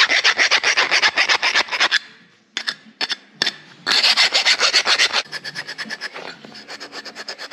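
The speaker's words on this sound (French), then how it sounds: "Petit coup de lime, pas de mal." Hand file rasping stainless steel tubing for an electronic taxi exhaust line, a rapid run of close, bright, rhythmic scraping strokes broken by short pauses and a few single strokes, with no talking.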